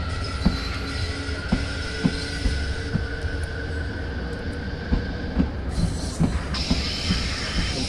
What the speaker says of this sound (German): dann lösen wir einmal die Bremse und setzen uns schließlich in Bewegung mit unserem schönen Zug.